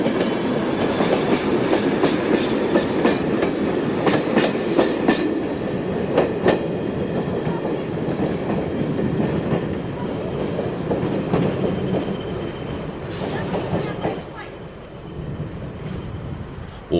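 A Portuguese railway train hauled by a 1400 class diesel locomotive rolls past with rhythmic clickety-clack of wheels over rail joints, a moderately loud rumble that fades slightly toward the end.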